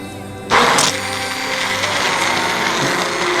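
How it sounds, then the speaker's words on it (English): A hand blender whirs steadily through leek and potato soup with chicken stock and celery, starting abruptly with a loud surge and then holding a dense, constant motor drone up close. "So we're gonna blend with the hand blender."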